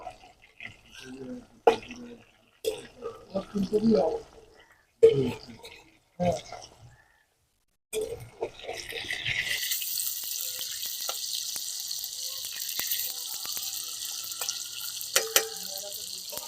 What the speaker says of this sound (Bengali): এবার মাছটাকে একটু নেড়ে দেব